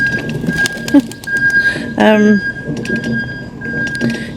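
Pigeons cooing outdoors during a day-in-the-life walk, a soft throaty coo rising briefly near the middle amid background ambience and a person talking.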